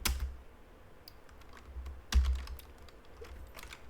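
A computer keyboard is typed on in short bursts, crisp key clicks with a heavier thump near the middle, close and clear against a quiet background.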